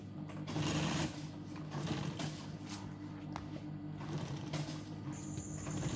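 A sewing machine runs through a rickshaw hood's decorative panel in a workshop, a close, steady mechanical whirring with a rhythmic needle beat that continues without pause.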